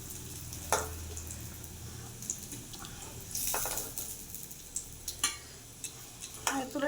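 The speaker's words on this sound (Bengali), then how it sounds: "আলুগুলো লাল লাল করে ভেজে তুলে নেব।" Potatoes frying in hot oil in a pan, a soft low sizzle broken by sharp clinks and scrapes of a utensil as the pieces are stirred and lifted out one by one.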